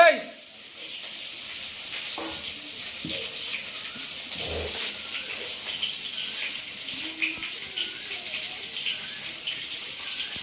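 Onion and potato fry in a pan with a continuous bright sizzle, broken by occasional clinks and soft scraping; the hiss stays even and close for the whole stretch.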